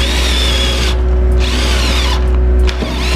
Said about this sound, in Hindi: तो जैसे ये स्क्रू है, सेल्फ ड्रिलिंग स्क्रू, तो मैं इसे यहाँ पे इंस्टॉल कर देता हूँ।